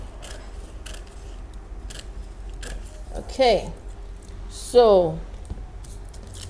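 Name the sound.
scissors cutting out a paper skirt pattern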